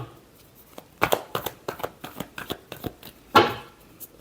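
Tarot cards are shuffled close up in a rapid run of crisp riffling flicks and slaps, ending with a louder flurry.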